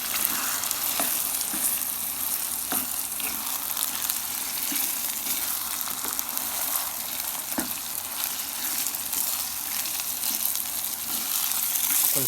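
Chicken keema fries in a pan with a continuous close sizzle, while occasional spoon knocks and scrapes from stirring land at irregular intervals, no one speaking.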